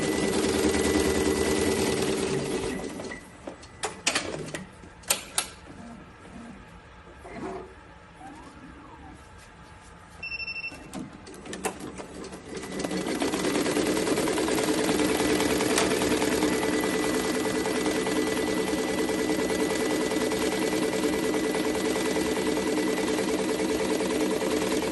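An SWF B-T1501 embroidery machine, freshly repaired, greased and oiled, hums and rattles loudly at first, drops to quieter clicks and brief sounds midway, then returns to a steady, sustained mechanical drone.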